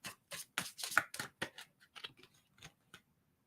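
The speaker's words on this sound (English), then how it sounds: "I'm going to pull a couple more cards." Tarot cards shuffled, handled and drawn, a run of soft, quick papery flicks and slides, close and faint, thinning out toward the end.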